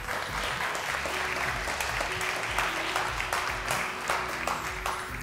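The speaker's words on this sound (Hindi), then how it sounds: "इनके लिए बहुत सारी तालियां" Studio audience applause fills a Ramadan debate show set, steady dense clapping holding throughout at a loud, even level with no talk over it.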